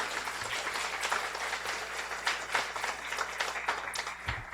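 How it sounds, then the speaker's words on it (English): An audience applauds at a guide dog school graduation, a moderate, somewhat distant patter of many hands clapping that carries on evenly over a low background hum. "Please, after I mention the name, give a round of applause for first Sally Stockhammer for her support of the graduation."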